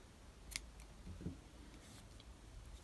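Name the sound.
scissors cutting crochet yarn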